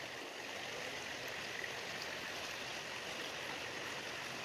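River water flowing steadily in a continuous, even rush, faint and unbroken with no voices.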